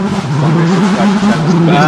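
A car launches nearby, its engine revving in a loud, sustained droning tone that wavers and climbs slightly, with people talking over it.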